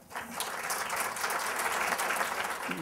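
Sustained applause from an audience, steady clapping throughout with no pauses.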